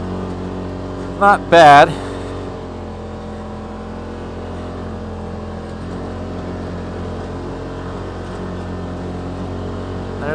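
A 2018 Polaris RZR XP Turbo on Tusk Terrabite tires churns through snow drifts with a steady, droning engine and spinning-wheel rumble, and a voice briefly speaks over it early on.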